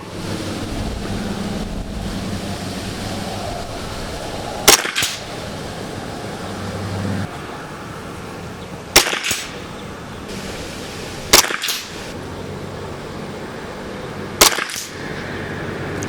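Wind gusting steadily across an outdoor shooting range, a continuous broadband rush with low rumble, interrupted by four sharp rifle reports from a .22LR spaced a few seconds apart.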